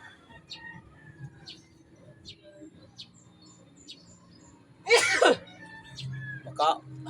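A single sharp sneeze bursts out loudly partway through, followed moments later by a shorter second burst, over a background of scattered bird chirps and low ambient hum.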